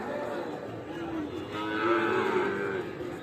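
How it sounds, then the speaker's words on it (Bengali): A Sahiwal bull calf, about seven to eight months old, moos at a rural cattle market in cold weather. The low, drawn-out moo swells in the middle of the clip over faint crowd murmur. "আমবাড়ি হাট থেকে সাহিওয়াল জাতের সার বাছুর"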